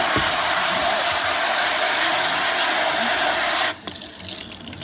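A steady rush of warm water from a tap runs loudly for several seconds, then cuts off abruptly, leaving quieter clatter.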